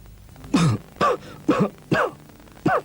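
A person gives five short, harsh coughs or throat-clearing bursts in an old Indonesian TV commercial for Komix cough syrup, evenly spaced about half a second apart, close and loud with brief quiet gaps between them.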